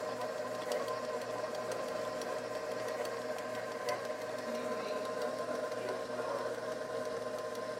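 A stand mixer creams butter and sugar with a steady, even motor whir and faint rhythmic rattle that runs unbroken; someone talks over it.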